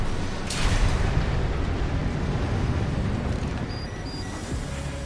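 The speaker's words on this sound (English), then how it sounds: "Have some missiles." Missile explosions in the Armored Core 6: Fires of Rubicon mech game, a loud rumbling blast surging in after a sharp onset and decaying into a long noisy roar, with a couple of faint electronic beeps near the end.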